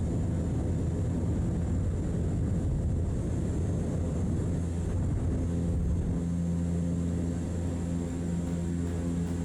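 A Canadair CL-415 water bomber's twin turboprops roar in Flight Simulator 2024 as it takes off from water, a loud steady drone with churning low rumble that shifts to a smoother tone partway through.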